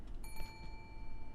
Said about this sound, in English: I don't know why this bell's in the center of the room.